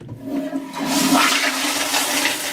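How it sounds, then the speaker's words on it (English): A toilet flushes loudly and close, a gush of rushing water building and sustaining for a couple of seconds with no talk. "that sounds like just the exact same toilet flushing that you hear in Roller Coaster Tycoon games"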